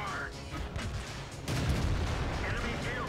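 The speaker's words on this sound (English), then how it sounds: "here comes a T-34-85. And this thing just pumps the shots out." A T-34-85 tank in World of Tanks fires its gun, a heavy boom that jumps in loudness midway and rumbles on, with someone talking over the battle.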